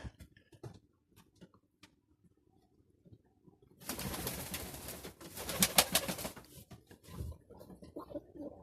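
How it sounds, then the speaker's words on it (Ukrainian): Domestic pigeons coo in a backyard loft on a warm evening, soft repeated throaty calls scattered through the clip, growing denser and louder in the middle stretch with fluttering and shuffling alongside. "Голуби парують цару."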